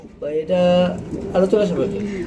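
Pigeons coo in low, throaty rolling calls, close by, with people talking over and around them.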